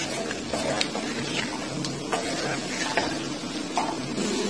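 Chicken being stirred into masala in a pan over a low flame, a steady scraping and sizzling with occasional clinks of a spoon against the metal, no talking.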